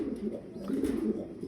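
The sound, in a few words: fancy pigeons cooing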